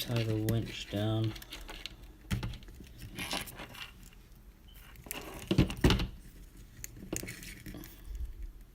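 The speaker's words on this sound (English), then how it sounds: "Zip tie the winch down." A zip tie being ratcheted tight around a scale RC Warn winch on an Axial build, two short buzzy ratcheting pulls near the start followed by quieter clicks and handling taps.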